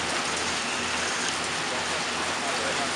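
Rain falls over Dammam city in Saudi Arabia: a steady, dense hiss of drops on surfaces that holds constant throughout, with no clear voices above it.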